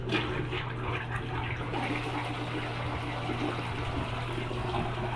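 A newly installed toilet (water closet) in a new house flushes with a steady, close rushing of water and a low hum beneath it, sustained for several seconds with no talking.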